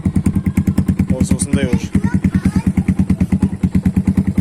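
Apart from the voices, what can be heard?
Kayo T2 MX 250 motorcycle engine idling after warm-up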